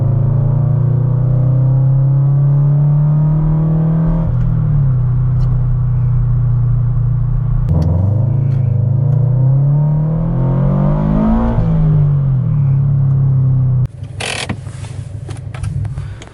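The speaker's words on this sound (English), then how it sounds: "I'll do a third gear pull at 35 miles an hour." Subaru BRZ fitted with a JDL header pulls hard through third gear, its engine note climbing steadily in loud repeated rising sweeps with brief dips at the shifts, then cutting to a rougher, noisier tone near the end.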